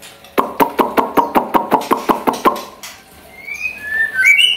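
A young songbird fresh out of a cardboard box gives a rapid run of about ten sharp, evenly spaced notes, then rising whistled chirps, loud and close.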